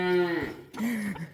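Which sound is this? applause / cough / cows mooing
cows mooing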